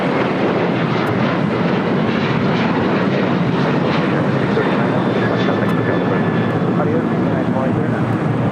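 United Airlines jet departing LAX for Chicago O'Hare, a continuous broad engine rumble and roar with a thin high whine running across it, steady in level and fairly distant.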